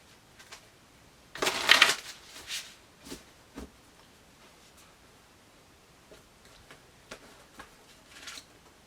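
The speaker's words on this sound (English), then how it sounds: "One more shuffle" Oracle cards are shuffled in short papery bursts, one louder riffle followed by scattered softer flicks and rustles, close and otherwise quiet.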